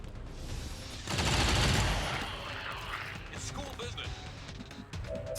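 A squad soldier in XCOM 2 fires a burst of gunfire, a loud rattling volley that is followed by mechanical clatter and softer game sounds.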